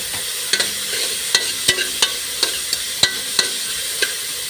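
Mussels sautéing in a pan with butter, ginger and tomatoes: a steady close sizzle with sharp clicks from a utensil stirring against the pan at an irregular rhythm, with no voices.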